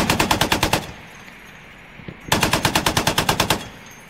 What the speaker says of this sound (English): As it advanced, its heavy machine gun wailed.